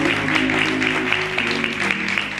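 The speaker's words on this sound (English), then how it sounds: "why don't you just give God a hand clap of praise for that?" A church congregation claps in praise, a steady dense patter of many hands filling the room, fairly loud and continuous throughout with a sustained musical tone underneath.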